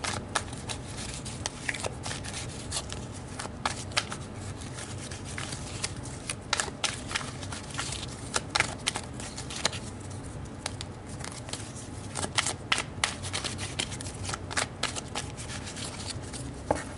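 Tarot cards are shuffled continuously at close range in a quiet room, producing soft riffling and patter with frequent small slaps and flicks.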